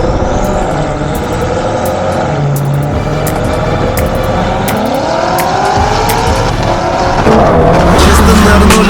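A BMW M5 CS with loud engine and exhaust roar, steady and close throughout, with rising and falling revs and a hint of tire noise near the end, no talking.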